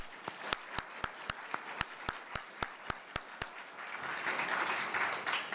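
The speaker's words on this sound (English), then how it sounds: "let's give him a nice round of applause" At a university scholarship award ceremony, a few sharp, evenly spaced claps ring out close by at first, then the audience swells into a broader, softer wash of applause.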